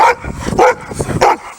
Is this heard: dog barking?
yes